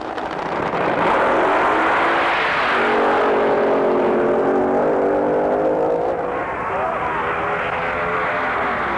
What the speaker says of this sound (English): this is the first piston-powered dragster to eclipse the 200-mile-per-hour mark on a quarter-mile dragway